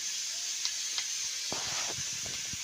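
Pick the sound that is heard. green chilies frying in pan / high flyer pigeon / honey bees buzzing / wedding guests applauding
green chilies frying in pan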